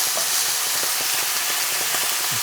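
Beef searing in a hot pan, giving a loud, steady hiss and sizzle with small irregular crackles and pops scattered throughout, close up and continuous.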